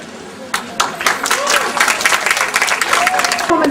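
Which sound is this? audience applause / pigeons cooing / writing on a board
audience applause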